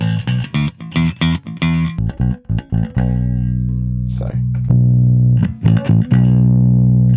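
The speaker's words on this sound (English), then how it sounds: "I have to say that the Logic's bass amp designer isn't bad." A bass guitar played through Logic's bass amp designer plugin gives a distorted, buzzy tone, with a quick run of short plucked notes followed by longer sustained ones.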